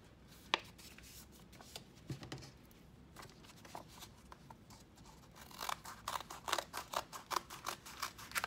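Scissors cutting folded paper for a flip book, a series of quiet snips that grows quicker and more crisp toward the end, close up with no talking.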